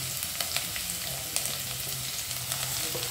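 Beans and carrots frying in a pan give a continuous close sizzle with a few light clicks of stirring, no voices.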